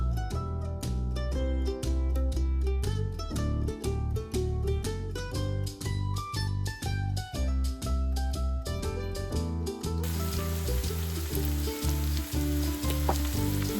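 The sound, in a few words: moringa drumsticks frying with potatoes in pan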